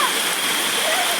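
A forest stream in summer rushes and splashes in a steady, dense wash of water noise filling the short moment.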